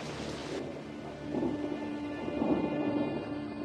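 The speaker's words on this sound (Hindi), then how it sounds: "काकाडू के तूफानों की गिनती दुनिया के सबसे बड़े तूफानों में होती है।" Thunder rumbles low and long over steady rainfall during a storm in Kakadu, the rolling growl swelling twice while the rain hiss continues beneath it.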